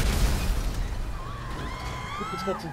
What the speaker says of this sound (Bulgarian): Кола номер 5 беше взривена току-що.